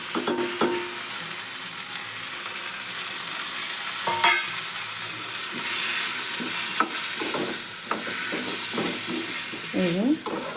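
Tomato and spices sizzle steadily in a hot pan, a continuous close-up frying hiss broken by scraping stirs and a few sharper spatters, with a brief faint voice near the end.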